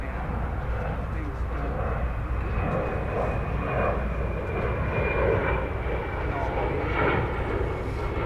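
A four-year-old airliner arriving at DFW Airport after a long flight from Helsinki gives a steady, broad engine roar that holds through the whole stretch, with a voice talking over it at times.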